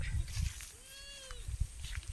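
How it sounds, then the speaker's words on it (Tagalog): A goat bleats once on a farm in La Union, Philippines, where a kid goat is nursing, a short wavering cry at moderate distance over scattered farmyard bumps and rustling. "Ayan, nagdididi yung kambing namin."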